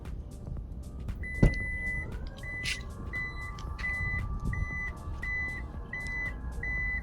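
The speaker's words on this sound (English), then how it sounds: "Now the Maruti Suzuki Invicto does get an electric tailgate, and you can open it right from your key just by pressing this button." The electric tailgate of a Maruti Suzuki Invicto opens after a key-fob press: a sharp click, then a steady motor whine under a regular series of short repeating beeps.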